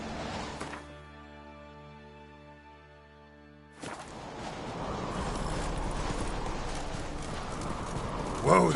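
Roach, the horse in The Witcher 3 video game, gallops with a steady rapid clip-clop of hooves that swells louder partway through, following a quieter stretch with a low droning hum.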